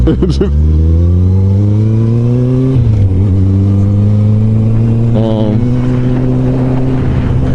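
A motorcycle engine drones loudly and close while riding at night, its pitch climbing steadily, dropping briefly at a gear change, then holding a smooth, even hum.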